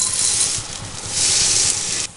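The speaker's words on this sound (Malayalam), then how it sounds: "ആദ്യം കടുക് ഇടാം." Mustard seeds sizzle in about two teaspoons of hot coconut oil for a Kerala-style Chinese potato masala. A steady, close, bright hiss runs throughout with a faint low crackle, then drops off sharply at the very end.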